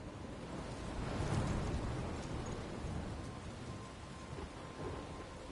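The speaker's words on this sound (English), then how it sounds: "I'm trapped in a storm?" A video game thunderstorm roars with continuous heavy rain and a deep rolling thunder rumble that swells and slowly fades, with no voices.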